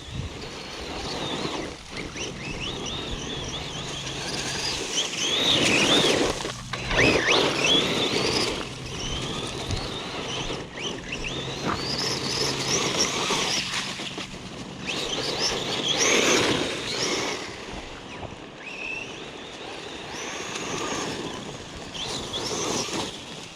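An RC car drives and drifts outdoors, its small motor whining in surging bursts that rise and fade over heavy wind rumble, near then farther, with no talking.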